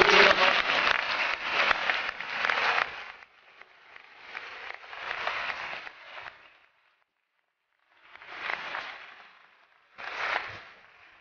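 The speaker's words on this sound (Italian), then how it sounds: "un applauso" Applause from guests at a 70th wedding anniversary celebration in Italy, several loud bursts of clapping separated by quieter stretches and a short silent gap, with a little talk mixed in.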